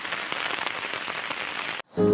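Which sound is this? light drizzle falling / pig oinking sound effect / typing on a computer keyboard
light drizzle falling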